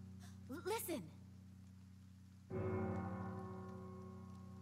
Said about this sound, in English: 3 sounds of the bell. Only for the death of a Radric